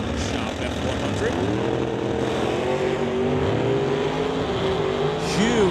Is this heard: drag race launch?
yes